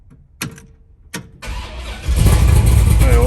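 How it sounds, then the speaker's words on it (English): A 1964 Chevrolet Impala two-door hardtop with a 468 big-block engine cranks in two short bursts, then catches and settles into a loud, steady idle that swells louder near the end, heard up close indoors. "Just cranks over a second and fires right up."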